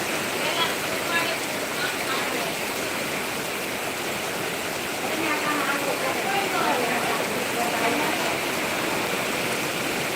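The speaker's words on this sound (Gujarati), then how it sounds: "અને ખૂબ જ વરસાદ આવે છે" Heavy unseasonal rain pouring steadily in Keshod, a dense continuous hiss of falling water at a constant moderate loudness throughout, with no voices.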